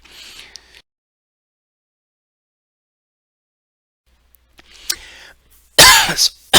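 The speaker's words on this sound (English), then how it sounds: "A couple follow-up coughs." A short burst of harsh coughing, loud and close, after a stretch of quiet.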